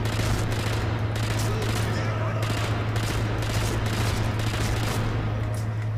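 Gunfire in rapid three-round bursts from the Sniper Elite V2 video game crackles continuously and loudly across the whole stretch, over a steady low hum.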